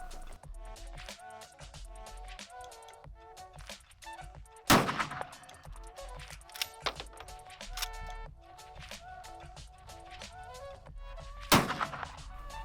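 A Steyr M95 carbine fires 7.62x54 rimmed rounds, two loud, sharp shots several seconds apart standing out over steady background music.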